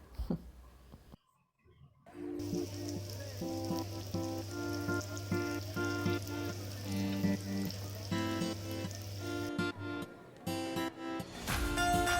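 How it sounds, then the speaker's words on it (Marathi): Spiced banana slices fry on a tawa with a soft, continuous sizzle and crackle. The sound starts after a brief quiet gap, while a steady low hum and patterned background tones run underneath. "केळ्यांच्या फोडीक हांवें बरो मसालो बीन लायला आनी ती आतां तव्यार बसपाक रेडी आसात"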